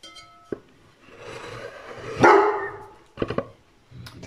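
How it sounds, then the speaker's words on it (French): A dog barks near a workbench where a hi-fi speaker's suspension is being replaced: a sharp single bark, a longer loud bark and whine, then a quick burst of several barks, with quiet gaps between. "C'est mon chien qui cause."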